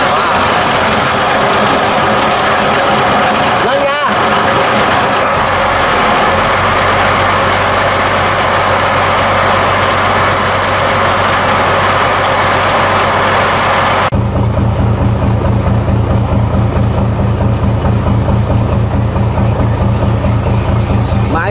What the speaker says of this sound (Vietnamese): bây giờ nổ máy nha